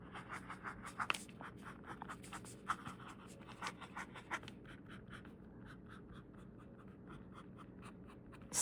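A Lamy fountain pen nib scratches across paper in quick, uneven strokes, with crisp close scratchy bursts and faint rhythmic ticks after a pause.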